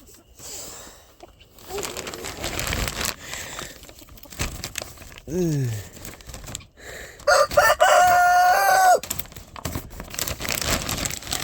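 Chickens cluck and a rooster crows loudly in the middle, with rustling and crinkling noises scattered throughout.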